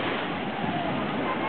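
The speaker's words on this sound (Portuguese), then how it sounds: "Lá vem a onda, hein?" Ocean waves surging onto a beach at Castelldefels, a broad continuous wash of water and surf that stays loud and steady throughout, with wind noise on the microphone and no clear talk.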